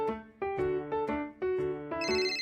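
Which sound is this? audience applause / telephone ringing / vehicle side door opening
telephone ringing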